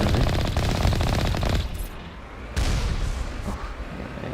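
An enemy turret firing in Mass Effect 1, a loud, rapid stream of automatic shots that cuts off abruptly, then single heavy impacts and a further burst follow.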